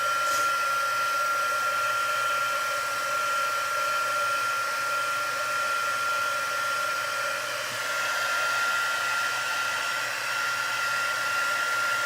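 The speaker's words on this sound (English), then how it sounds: "I'm going to dry that with the heat tool." A heat tool blows steadily and loudly while drying ink on a handmade floral textured card, a continuous whirring hiss running the whole time with a slight change in pitch partway through.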